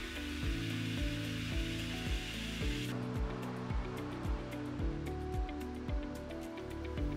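Pool filtration pump running steadily while re-priming, drawing water into its pre-filter, a continuous loud rushing, gurgling wash with a rhythmic pulsing throb beneath, growing brighter and more hissing partway through.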